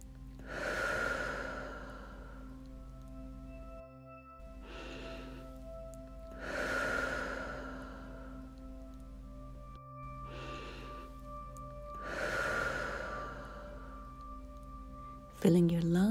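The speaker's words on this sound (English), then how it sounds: "Let's begin with some deep, relaxing breath. In through the nose and out through the mouth." Slow, deep breathing in through the nose and out through the mouth, with three long airy exhales and softer inhales between them over a calm, steady background tone.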